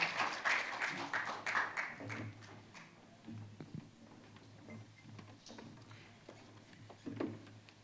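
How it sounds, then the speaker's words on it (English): An audience at an awards and scholarship ceremony claps, loud at first and then thinning to scattered, quieter claps and taps. "let's give them another big round of applause"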